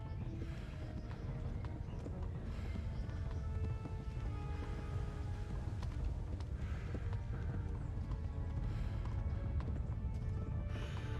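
A horse gallops in the medieval video game Kingdom Come: Deliverance, a steady rumbling run of hoofbeats under continuous low wind-like noise, sustained throughout without a break.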